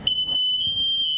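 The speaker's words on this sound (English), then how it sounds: "The combo alarm went off first." A combination smoke alarm sounds during a house fire test, giving one loud, steady, high-pitched electronic tone that holds continuously with no talking.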